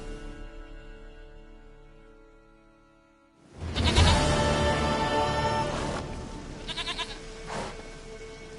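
A goat in The Witcher 3 bleats loudly and close by, following a quieter stretch of steady tones; several wavering bleats rise and fall in quick succession.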